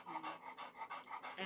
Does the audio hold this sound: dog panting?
yes